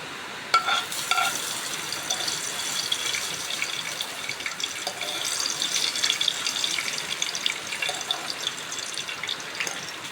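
Mustard-fenugreek tempering poured into buttermilk curry in a home kitchen: a soft, steady sizzle and liquid stirring with occasional clinks, fairly quiet and without talk.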